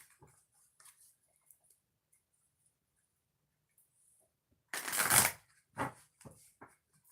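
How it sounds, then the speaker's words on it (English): Oracle cards are shuffled by hand in a quiet room, with soft scattered ticks followed by a short burst of riffling and a few lighter shuffles, close and fairly faint. "2 shuffles for Pisces sun signs."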